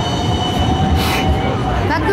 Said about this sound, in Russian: Амстердамский трамвай.